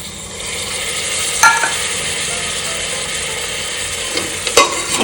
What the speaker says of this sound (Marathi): आता त्याच्यामध्ये मी ग्रीन पीस टाकणार